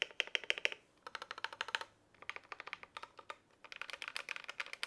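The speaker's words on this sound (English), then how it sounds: "if we get a sound test of the RK84" Fast typing on an RK84 mechanical keyboard, with dense bursts of crisp, poppy keystrokes separated by brief pauses, close and clear with no talking.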